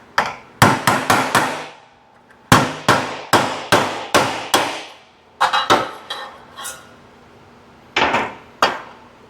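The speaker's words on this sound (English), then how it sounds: "We'll use this tappety hammer." A small hammer taps on the rusty metal body of a 1973 Ford F100 pickup truck, with sharp ringing strikes in quick bursts of four or five, separated by short pauses, close and loud.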